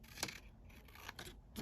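Scissors snip through paper scraps for a journal, several quiet, close cuts spaced irregularly over a low background hum.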